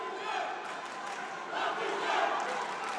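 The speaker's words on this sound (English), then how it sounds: "the fans trying to rally the boxer that they are cheering for in what is an absolutely raucous atmosphere" A boxing arena crowd at a women's world championship final roars and cheers in a raucous, continuous wash of voices, swelling toward the end, with a commentator faintly audible underneath.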